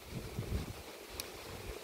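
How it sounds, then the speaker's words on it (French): A short gust of wind buffets an outdoor microphone, producing a low, rumbling, muffled thump that swells briefly near the start and then settles into a soft blustery hiss. "Une rafale de vent"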